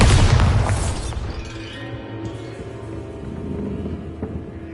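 A Bombarda spell explosion in the Hogwarts Legacy video game: one loud, deep boom at the start that fades into a lingering low rumble and debris-like crackle.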